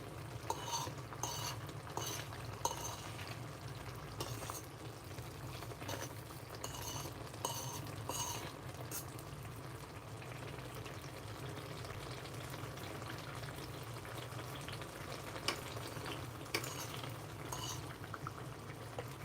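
Meat sizzles and fries in a pan while being stirred, with steady crackling and spattering and occasional scrapes of a utensil against the pan throughout, close up and without talk.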